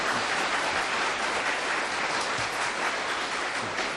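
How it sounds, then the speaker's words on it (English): A studio audience at a 1970s television panel game applauds steadily and loudly for the two teams, a dense, even wash of clapping with no voices over it. "I think they both ought to get clapped."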